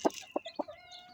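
Rhode Island Red chickens on a rural farm give three quick low clucks, followed by a thin, drawn-out higher call, close by and with no talking.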